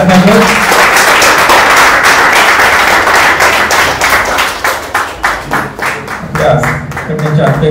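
Audience clapping at an award ceremony honouring short films and entrepreneurs, a loud dense burst of applause that carries on steadily, then thins into scattered claps near the end.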